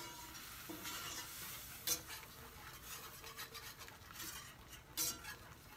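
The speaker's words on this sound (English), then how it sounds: "stir it all in here" A utensil stirs mushroom powder into a flour roux in a pan, giving soft scraping and faint sizzling with a couple of sharper clinks against the pan, quiet and close, with no talking.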